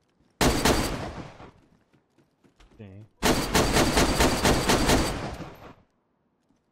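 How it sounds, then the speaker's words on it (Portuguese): Gunfire in the video game DayZ, two long loud bursts of rapid shots separated by a short pause with a brief tonal sound, while people chat in the background. "Tá ouvindo o barulho do tiro"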